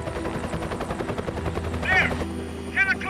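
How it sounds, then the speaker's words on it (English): A helicopter's rotor thumps rapidly and continuously nearby, with a couple of sharp bursts cutting through the steady chop. "Helicopter's still one of my favourite sounds"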